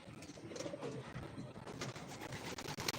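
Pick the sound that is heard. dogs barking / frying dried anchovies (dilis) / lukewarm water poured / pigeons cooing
pigeons cooing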